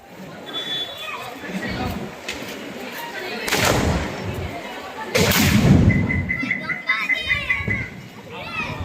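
Deepavali firecrackers burst outdoors in an open ground during a family celebration, with a few sharp loud bangs standing out against steady crackling, whistles and children's voices and chatter throughout.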